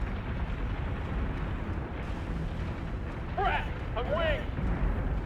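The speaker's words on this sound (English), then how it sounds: "Missiles hitting our frigate." Missile impacts pound a frigate in the Battlestar Galactica Deadlock space battle, a steady rumbling wash of explosions with brief beeping effects over it and a narrator talking throughout.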